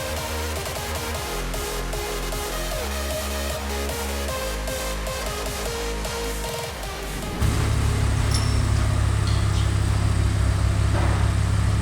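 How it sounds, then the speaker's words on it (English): Audi R8 V10 engine idling after an oil change, a steady loud low rumble that grows heavier partway through, with some shuffling and clatter nearby. "Car is on, so it's kind of loud, but let the car idle for about 15-20 minutes already"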